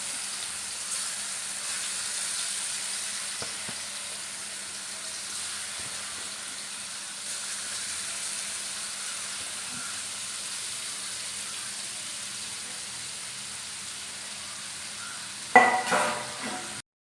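Prawns fry in hot oil for a pickle, giving a steady, even sizzle throughout, then a sudden louder burst of stirring and sputtering near the end.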